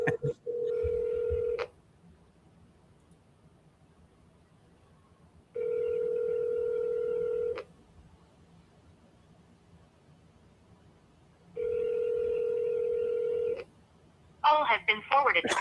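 A telephone line gives three long ringback tones, each about two seconds, separated by roughly four-second silences, followed by a brief burst of voice or a recorded message at the end.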